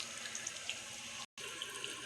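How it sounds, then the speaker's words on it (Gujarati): Tap water running steadily to water garlic planted in pots, a soft continuous gush with a brief cut partway through. "આવી ગયું અહીંયા પાણી."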